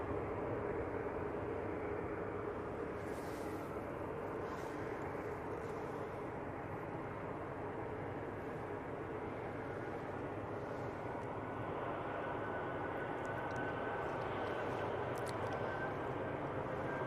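Airbus A319 airliner at Manchester Airport, a steady broadband engine roar lasting the whole stretch with a faint rising whine, fairly distant and continuous, with no voices.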